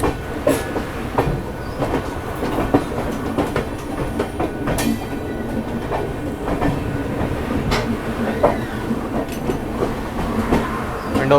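The Prayagraj Express pulls into Ghaziabad Junction on a foggy day, with steady rumbling and clickety-clack of wheels over rail joints, a continuous close rolling noise with scattered clanks and faint squeals.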